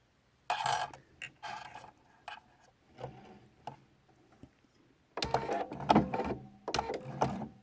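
A sewing machine stitching decorative binding on a quilt runs in short bursts of rapid mechanical rattling, with pauses and a longer run near the end, close by.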